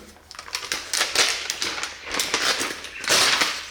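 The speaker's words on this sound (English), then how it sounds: "So let's just take the machine out of its paper wrapping." A MacBook Air is pulled from its paper wrapping, giving close, loud bursts of crinkling and rustling paper in irregular waves with short pauses between.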